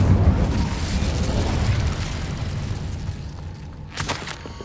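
An Incendio fire spell blast in Hogwarts Legacy, a deep roaring burst that rumbles and slowly fades over several seconds, loud and close, then a brief sharp crackle near the end.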